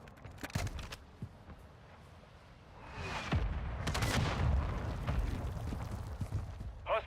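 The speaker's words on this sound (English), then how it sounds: "Hostiles launched a mortar strike." Mortar strike explosions in the Call of Duty DMZ video game: sharp thuds and cracks at first, then a swelling rumbling barrage of blasts that stays loud to the end, with faint radio-style voice chatter.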